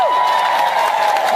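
An audience at a religious lecture claps and cheers loudly and continuously, a dense burst of applause mixed with crowd noise.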